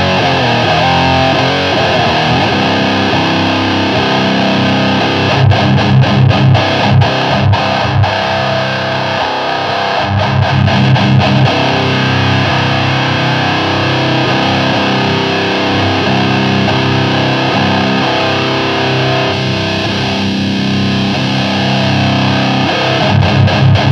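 Heavy, saturated electric guitar played through a JFET boost pedal, loud and continuous with chugging palm-muted bursts and sustained distorted chords throughout, no voices.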